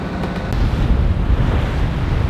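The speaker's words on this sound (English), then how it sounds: "So we're kind of hitting standing waves, huh?" Standing river waves slap and churn against a trawler boat in a dense, loud, rumbling wash mixed with wind buffeting the microphone, continuous and close throughout.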